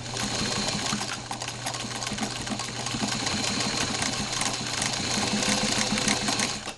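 Sewing machine stitching a second row of stitches along seam tape on a loom-knitted doll sweater, a loud, continuous rapid whirring hum that runs without a break and stops at the end.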